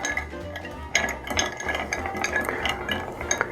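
A bar spoon stirs ice in a glass mixing glass while a Sazerac cocktail is made, giving a continuous close swirl of soft clinks and rattles.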